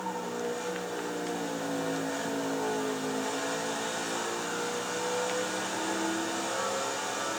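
NASCAR race cars in the video game NASCAR '14, a bunched pack of engines droning at sustained high revs, steady and continuous with overlapping tonal whines, heard alone without talk.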